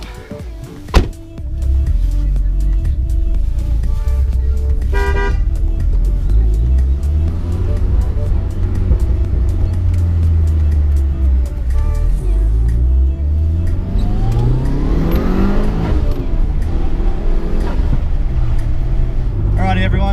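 Mitsubishi Lancer Evolution 6 Tommi Makinen Edition engine running steadily up close, with a rising rev sweep near the end and a thunk like a door early on; speech-like sounds are mixed in.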